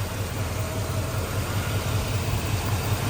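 A 1972 Chevrolet Chevelle engine idles steadily and close by, a continuous low rumble with an even pulse and no voices.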